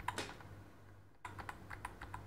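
Keys are pressed on the keyboard of an RTX 3080 gaming laptop, a run of quick light clicks in an irregular rhythm, close and fairly quiet, with a short pause midway and no talk.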